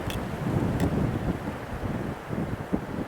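Strong wind roaring during the Portugal wildfires of August 2025, a steady, loud gusty rush buffeting the microphone throughout, with a couple of faint sharp knocks.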